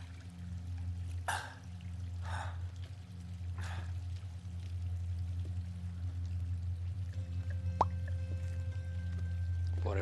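Steady rushing pour of water from a still-running spring in Uncharted 3, a continuous even wash with a few faint splashes and drips over it, held for the whole stretch with no talk.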